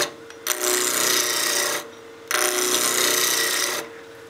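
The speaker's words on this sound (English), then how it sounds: "Just let that wood come right off onto the tool." A spindle roughing gouge cuts wood turning on a lathe, making two long, steady rasping passes with a brief pause between them, loud and close.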